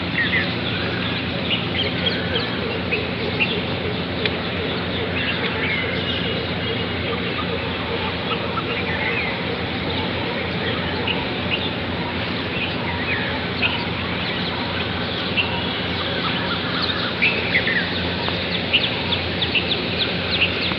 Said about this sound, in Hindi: तो आपने भी सुना ना पक्षियों की चहकने की आवाज़ कितनी अच्छी लगती है